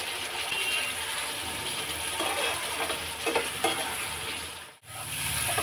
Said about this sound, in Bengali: মশলা ধোয়া জলটা দিয়ে আর একটু ভালো করে কষিয়ে নেব।